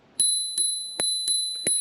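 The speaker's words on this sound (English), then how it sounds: "listen to this bell, everybody." Dual spring-loaded bicycle bell on a Hiboy S2 Pro electric scooter rings five times in a slightly uneven rhythm, each strike bright, close and loud, with no talking.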